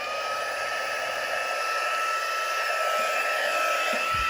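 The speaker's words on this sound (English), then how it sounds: "let's heat up our heat tool" A craft heat tool set on high blows hot air to melt copper metallic embossing powder, giving a loud, steady, close whooshing hum that runs unbroken throughout.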